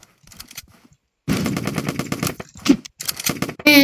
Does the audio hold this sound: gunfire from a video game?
yes